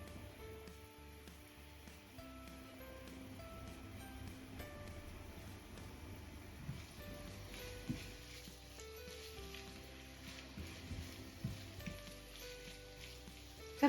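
Food frying in a pan while spaghetti with fish is being made, a quiet, steady sizzle with scattered small pops and crackles that grow busier toward the end.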